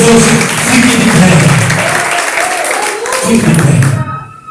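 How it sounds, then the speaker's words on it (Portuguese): Church audience applauding the Lord Jesus, a loud, dense, continuous roar of clapping with voices mixed in, cutting off abruptly near the end. "Quantos podem aplaudir o Senhor Jesus?"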